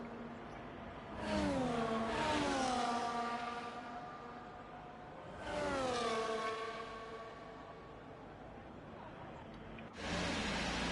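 F1 race cars launching off the line at the start of the Spanish Grand Prix in a racing video game on soft tyres, engines rising in loud, whining upshifting revs that repeat in waves, with a voice talking underneath.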